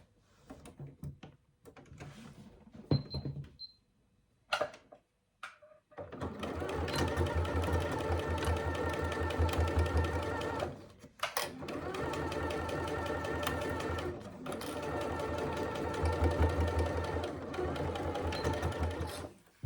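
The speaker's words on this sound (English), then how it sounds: "And then you stitch along that top edge again at 1/4 inch seam allowance." A sewing machine stitches along the top edge of a faux leather handbag at a quarter-inch seam allowance. A few seconds of scattered handling knocks come first, then a loud, steady motor hum and needle rattle run close up, with one brief pause partway through.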